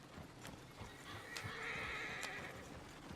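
A horse in the Red Dead Redemption 2 video game gives a faint, brief whinny amid soft hoof clip-clops and quiet outdoor ambience.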